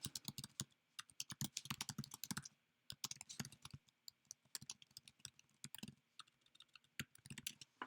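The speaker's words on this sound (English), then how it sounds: "So let me type this out." Close, fairly quiet typing on a computer keyboard comes in quick bursts of key clicks, with short pauses between runs.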